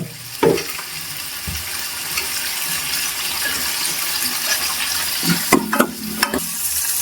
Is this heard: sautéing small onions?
yes